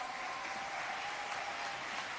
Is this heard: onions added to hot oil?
no